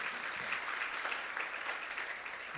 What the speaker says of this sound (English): So can we just give them a round of applause